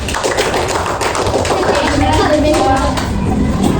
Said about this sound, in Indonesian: Oke, kita kasih tepuk tangan untuk kelompok ini.